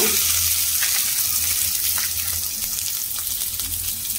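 Chopped garlic frying in hot oil for veg Manchurian makes a loud, continuous sizzle with a dense hiss that holds steady from start to finish.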